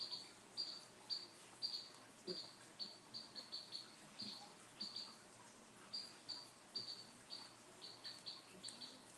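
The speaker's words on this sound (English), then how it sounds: "I'm hearing birds coming through my, whatever these are called" Small chirps repeat outdoors in a steady rhythm, high and thin, fairly faint and continuous against a quiet background hiss.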